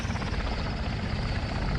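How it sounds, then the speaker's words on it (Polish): A helicopter in an Afghanistan war video game gives a steady, loud rotor thrum throughout, a dense continuous whirring with no speech over it. "tam jest jakiś helikopter"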